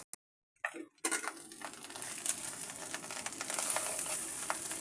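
Fried rice with spring onion greens is stirred in a hot pan, giving a steady, fairly loud sizzle and scraping after a brief silent start, with no talking.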